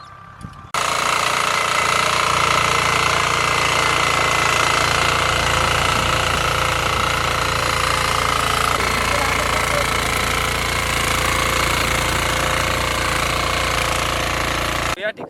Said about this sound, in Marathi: हँडेल एकशे ऐंशी डिग्री अंश कोणात फिरवून मशीन फॉरवर्डला चालवून बघूयात